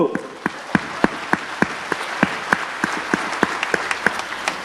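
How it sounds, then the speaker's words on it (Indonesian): An audience at a sales seminar applauds, with a sharp, regular clap pattern standing out over a wash of crowd clapping, lively and fairly close. "Tepuk tangan yang meriah Bapak Ibu."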